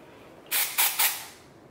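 Tropical-scented dry shampoo sprayed from an aerosol can in three short, close hissing bursts, each about a quarter second, separated by brief gaps in a quiet room.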